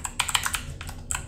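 Keys tapped on a Tropro one-hand gaming keyboard, a quick burst of crisp clicks followed by a brief pause and a few more taps, close and fairly quiet with no talking.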